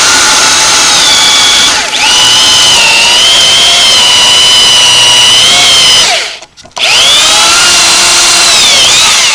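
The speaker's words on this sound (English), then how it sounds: "we're going to just drill a hole right in there" A loud, close power drill whines continuously, its pitch shifting under load, cutting out briefly once before spinning up again.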